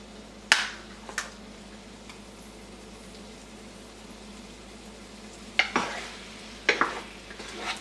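Shrimp sizzle in a hot pan on the stove, a soft, steady frying hiss under a quiet room hum. A few sharp clicks and clatters of a utensil against the pan break in now and then.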